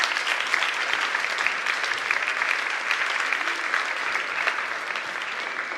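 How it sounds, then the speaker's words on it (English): An audience at a high school academic and fine arts awards night claps for choir section leaders, a sustained, fairly loud wash of many hands clapping at an even level throughout. "Give them a round of applause, please."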